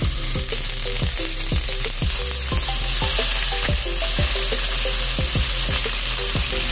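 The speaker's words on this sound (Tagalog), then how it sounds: "Lagyan natin ng cooking oil yung ating cooking pan dahil ipapride muna natin yung ating chicken." Chicken pieces fry in hot cooking oil in a pan, a constant loud sizzle broken by repeated sharp clinks of a utensil stirring and turning the meat.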